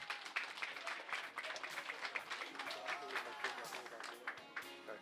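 Wedding guests clap in a quick irregular patter, faint and distant amid crowd chatter and voices talking nearby.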